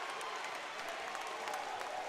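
A large crowd at a high school basketball game in Ooltewah, East Hamilton hosting Red Bank, makes a faint, steady murmur and cheer broken by scattered claps and sharp squeaks, all heard from a distance.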